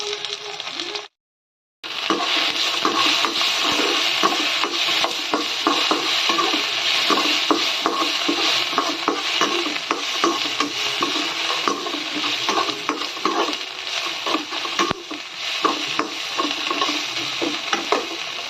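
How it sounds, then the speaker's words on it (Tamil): Tomato, three green chilies and ten garlic cloves sauté in a pan for a dry fish curry, giving a steady close sizzle with repeated scraping stirs and no talk; a short silent gap comes near the start. "தக்காளி, 3 பச்சை மிளகாய், 10 பல் பூண்டு, இதை போட்டு நல்லா வதக்கிக்கலாம்."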